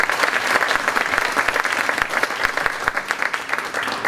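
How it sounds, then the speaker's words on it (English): Audience applause for a school band at a spring concert: loud, dense clapping from a full hall, sustained at an even level throughout. "How about a round of applause for the great band?"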